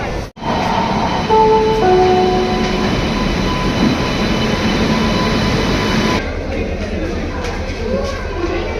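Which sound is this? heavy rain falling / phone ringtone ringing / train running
train running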